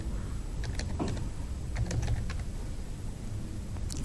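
Typing on a computer keyboard while entering a web address, a few scattered soft key clicks over a steady low background hum.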